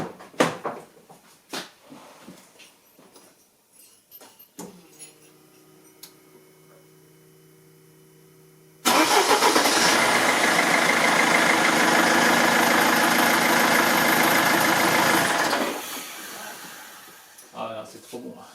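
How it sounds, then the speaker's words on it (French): Mercedes engine after a wiring harness replacement, with faint clicks and ticking, then a sudden loud start that settles into a steady, close idle for several seconds before cutting to a quieter tail. "un petit coup de démarrage pour voir"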